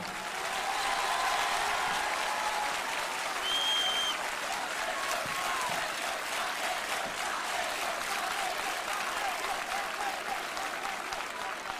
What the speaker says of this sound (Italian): E questo applauso è tutto per lui.